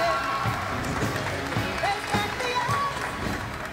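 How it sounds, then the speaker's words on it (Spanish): Crowd applause and cheering in a large gymnasium at a women's 49–55 kg competition, with scattered whistles and shouts over the clapping. "Las despedimos con un fuerte aplauso a nuestras atletas."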